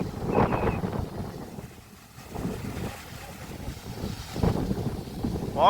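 Outdoor wind at a house being tiled, a continuous rushing hiss that dips briefly mid-way then rises again with gusty buffeting on the microphone, mostly without talk.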